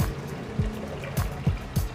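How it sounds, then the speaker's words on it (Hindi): Water is poured into a cooking pot of lentils, giving a few soft splashes and gurgling dribbles at an uneven rhythm. The sound is close and moderately quiet. "इसमें मैं ये डाल देती हूँ और मज़ीद पानी साथ ही"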